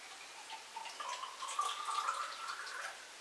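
Water drips through an adobe cob brick in a quiet, steady patter of small ticking drops, close and faint, with no one speaking.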